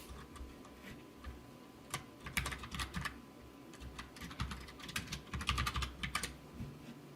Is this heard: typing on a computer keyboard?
yes